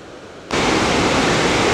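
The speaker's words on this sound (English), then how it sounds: "The water kind of hangs right there for a while until it finds its way down right there." Water rushes down a gorge beneath a covered bridge, bursting in suddenly after a quiet start and then roaring as a loud, continuous broadband wash.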